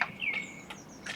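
Blackbird on a street in early June singing phrases that mimic a car alarm, a few thin, whistled chirps and warbling notes, moderately close against quiet surroundings.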